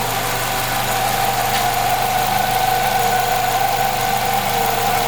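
A 2016 Nissan Rogue engine idles with an odd noise, a steady droning hum with a persistent mid-pitched whine and faint rattling vibration, constant and close for the whole stretch.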